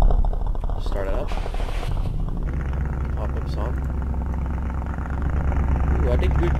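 Modified A-Chassis car in the Roblox video game starting up: an engine cranks and settles into a steady low idle rumble, loud and close, continuing throughout with a brief rev near the end.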